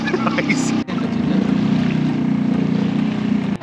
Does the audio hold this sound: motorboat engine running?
yes